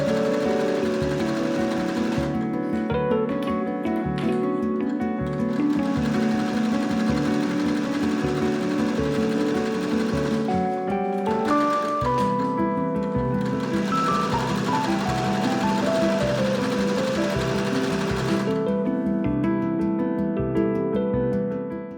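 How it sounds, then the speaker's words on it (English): A sewing machine stitches two fabric layers together for costume wings, running in long sustained bursts with brief pauses, its close hum joined by steady tonal background music. "machine stitching 2 layers together was so much easier and actually ended up working really well"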